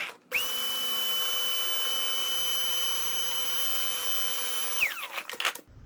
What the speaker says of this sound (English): Give it a quick vacuum.